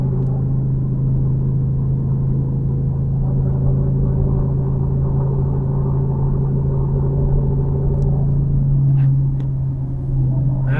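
A Ford 7.3 Godzilla V8 in a pickup hauling 6,500 lbs up a mountain grade, heard from inside as a steady, heavy low drone with road rumble that holds constant throughout, without talk.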